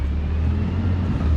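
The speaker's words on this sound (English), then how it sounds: "Let's let this truck pass." A truck passes on a road nearby with a continuous low engine rumble and road noise, steady and fairly loud throughout the short stretch, with no voices.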